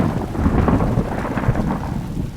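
A heavy thunderstorm with rain, a dense, loud wash of downpour over a deep, rolling rumble of thunder, steady and unbroken.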